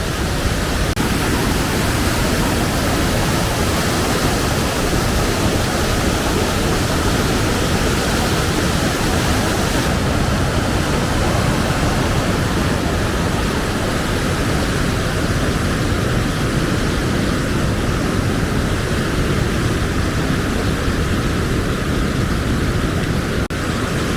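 A fast, glacier-fed river on the trek to Ghepan Glacier Lake in Lahaul rushes in a loud, unbroken roar that fills the whole stretch from close by.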